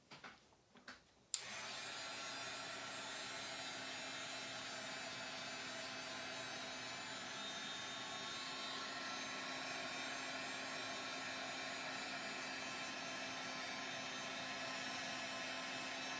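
A hair dryer switches on after a brief handling noise and blows wet paint dry on a mixed media box, a steady faint whirring hum that holds unbroken to the end.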